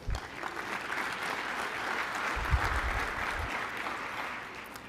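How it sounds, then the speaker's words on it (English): An audience at the AUSA Global Force Symposium in Huntsville gives steady applause for a sponsor, a dense wash of clapping lasting the whole stretch with a few low thumps in the middle. "Please give GoVini a big round of applause."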